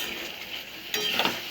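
Ginger, onion and garlic spice paste thinned with water sizzling as it is stir-fried in a pan for a fish and pea curry, a short crackling hiss that jumps louder partway through, with faint utensil scraping.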